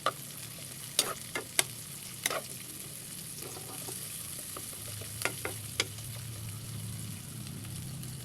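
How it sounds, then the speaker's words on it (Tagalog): Garlic, onion and ginger sautéing in a frying pan for milkfish adobo with eggplant, giving a steady sizzle with a few sharp clinks of a utensil against the pan scattered across it, no talk. "Nagisa na natin tong bawang, sibuyas, luya."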